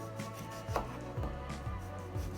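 A knife cuts through a lemon on a board with a few soft, evenly spaced slicing thuds, close and quiet, and no voices.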